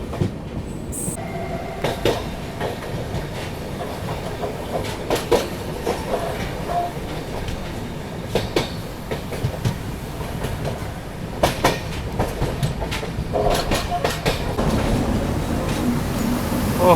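The Agartala–LTT Mumbai AC Express, pushed by two banker locomotives at the rear, runs steadily along the rails. Heard from inside a coach, a continuous rumble carries repeated clickety-clack wheel beats and occasional sharper rail knocks.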